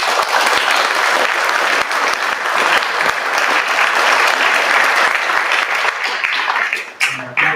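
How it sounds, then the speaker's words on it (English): A school athletic awards ceremony audience claps loudly and steadily for about seven seconds, a dense wash of hands that thins briefly near the end before a final burst. "please give a big round of applause for these folks"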